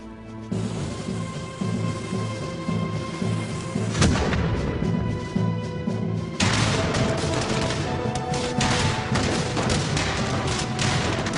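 Battle gunfire and artillery booms in a dense, continuous barrage, with sharp cracks and heavy thuds layered throughout, loud and sustained; a sudden heavier burst of volleys joins partway through.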